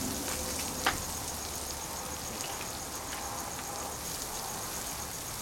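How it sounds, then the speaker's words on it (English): Onions frying in leftover bacon oil in a pan, a faint steady sizzle with a single soft clink near the start. "I'm just using the oil that's left by the bacon to cook the onions"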